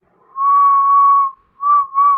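A person whistles alone in a quiet room: one long steady tone, then two shorter notes after a brief pause, clear and close.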